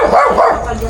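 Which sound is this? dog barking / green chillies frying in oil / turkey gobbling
dog barking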